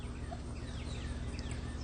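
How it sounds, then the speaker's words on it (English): Chickens cluck faintly on a farm where ducks and turkeys also roam, soft scattered calls over a constant low hum and background hiss. "Some chickens."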